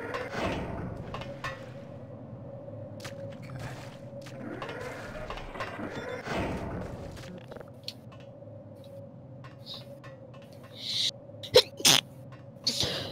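A single sneeze in a Sven-Coop game session, heard close and fairly quiet amid faint game mechanism clicks and hums, followed by brief sharper noises near the end.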